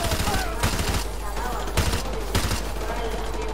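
Gunfire in the video game Call of Duty Modern Warfare 2: loud, dense volleys with sharp shots repeating over a heavy low rumble, plus clear gaps between the bursts.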